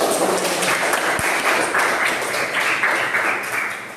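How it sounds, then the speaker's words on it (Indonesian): Classroom applause from a group of students, a steady wash of many hands clapping at moderate level that continues without pause and fades slightly at the end. "Tepuk tangan."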